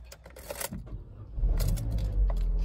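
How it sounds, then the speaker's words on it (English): A Vauxhall Corsa Limited Edition 1.2i three-door hatchback starts on its push button: a brief jangle of keys and clicks, then the engine catches and settles into a steady, close, low rumble. "the car starts on the button"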